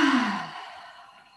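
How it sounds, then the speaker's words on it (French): A deep breath let out during a qi gong breathing exercise: one breathy exhale, loud at first and trailing off over about a second, heard alone. "Soufflez bien."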